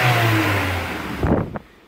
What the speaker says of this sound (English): the air filter is off, so you're going to get a little bit of a rattle or a rumble when you rev it